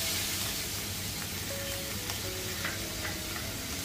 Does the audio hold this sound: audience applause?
no